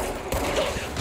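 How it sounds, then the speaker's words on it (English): Enemy gunfire aimed at the player in the action game Control, a dense, noisy burst of shots that starts abruptly partway through and carries on loudly to the end. "That was shooting at me."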